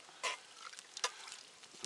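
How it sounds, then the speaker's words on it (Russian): A spoon scrapes and clinks through game meat left to stew in birch sap in a pot at an outdoor field kitchen, a few soft, brief stirring strokes with light crackle, quiet and close. "Перемешаем."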